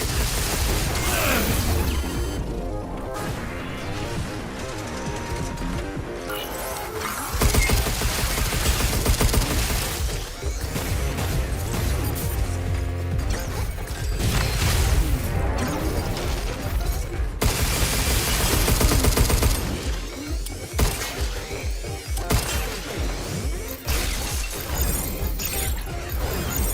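Shooting in a lunar expedition video game: dense, loud, continuous bursts of gunfire and crashing explosions with hardly a pause, heard over a game soundtrack.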